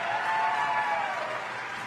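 Audience applause at a Ron Paul political rally in Minneapolis, a steady wash of many hands clapping together, fairly distant and even, fading slightly toward the end, with no voices heard.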